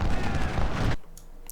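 Massed musket volleys from Civil War infantry, including the Iron Brigade, at Saunders Farm in Ultimate General: Civil War. The loud, dense crackle of fire runs for about a second, then cuts off abruptly, leaving only faint scattered shots.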